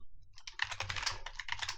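Quick bursts of keystrokes on a computer keyboard as code is entered, close and clear, a rapid uneven clatter with brief pauses between runs and no speech.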